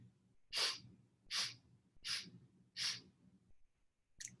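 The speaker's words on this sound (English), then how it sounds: "You take 4 equal sniffs in." Four quick, evenly spaced sniffs drawn in through the nose during a Kundalini yoga breathing exercise, close and clear, followed by the start of a fifth after a short pause.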